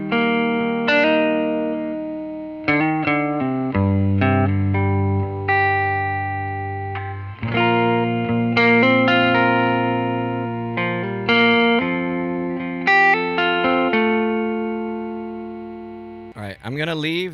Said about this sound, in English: I'm gonna engage the 63 Fender Reverb pedal.